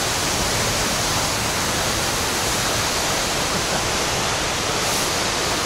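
Cascade du Dard waterfall in Chamonix roars as a dense, steady broadband rush of falling water, close and loud throughout with no talk.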